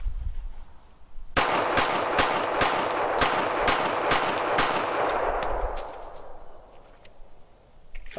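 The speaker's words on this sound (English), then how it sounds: "Let's try a little rapid fire on this one." A Para GI pistol fired rapidly at a shooting range: about a dozen sharp, loud gunshots in quick succession, close up, each followed by a ringing outdoor echo, with a quieter tail after the string ends.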